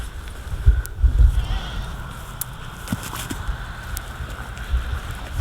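Goats on a homestead bleat a few times early on, short low calls over a faint outdoor background, followed by quieter rustling.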